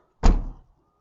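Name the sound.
Lexus LS430 boot lid soft-closing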